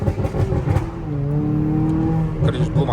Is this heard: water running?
no